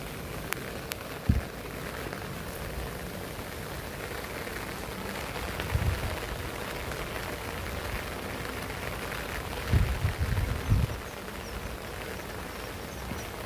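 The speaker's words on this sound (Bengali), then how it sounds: "কি পরিমাণ বৃষ্টি!" Heavy rain falls steadily in a broad, even hiss on surfaces outdoors, with a few louder drips and knocks scattered through it and no talking.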